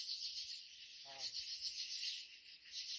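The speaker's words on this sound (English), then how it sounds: "There's just tree frogs and bugs and typical Missouri sounds." Night chorus of insects and tree frogs in woods near Table Rock Lake, Missouri: a steady high buzzing drone throughout, with a brief lower trilling call about a second in, distant and continuous with no talk.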